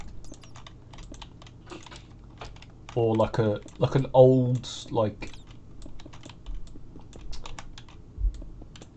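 Rapid clicking of keys on a worn computer keyboard that is beginning to break down runs steadily throughout, close and crisp, while someone speaks briefly in the middle.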